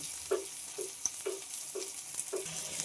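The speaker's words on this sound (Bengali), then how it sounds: "পেঁয়াজ লঙ্কাটা একটু ভালোভাবে আমি ভেজে নেব" Thinly sliced onions and red chillies fry in a pan with a soft steady sizzle, while a spatula stirs in a regular rhythm of about two strokes per second, close and fairly quiet with no talk.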